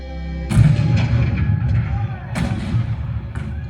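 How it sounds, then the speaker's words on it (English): Cannon fire sound effects from a Disneyland show about the start of the Civil War at Fort Sumter boom in two heavy blasts, each followed by a rumbling decay, with narration running under them. "The cannons spoke for war."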